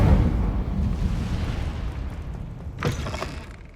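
An Incendio fire spell cast in Hogwarts Legacy gives a dense, rumbling whoosh of flame that fills the clip, with a brief brighter flare near the end.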